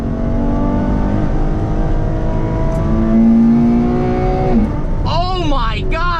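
A Ferrari F12 TDF accelerating hard from inside the cabin, its engine climbing in a raw, rising howl with loud intake roar, then a quick drop as the revs fall, followed by a shouted exclamation.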